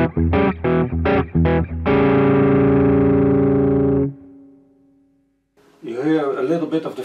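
Electric guitar played through a Rowin Dumbler overdrive pedal at unity gain, giving a dumble-style tone: a run of quick, gritty, fizzy plucked notes, then a long ringing chord that decays to near silence before a brief, wavering bent phrase.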